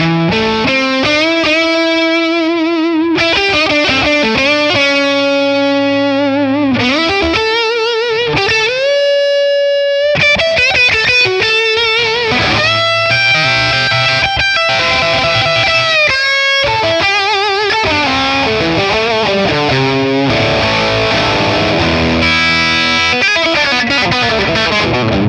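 A Les Paul electric guitar plays through a Matchless Laurel Canyon amp capture on the neck pickup, with overdrive and reverb. Loud, continuous melodic lead lines with sustained bends ring out alone.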